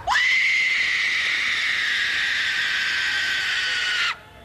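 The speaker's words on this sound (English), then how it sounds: "I want you to give us the scariest scream" A woman lets out a long, sustained high-pitched scream in a Halloween scream contest at Talladega, loud and close, holding steady for about four seconds before cutting off.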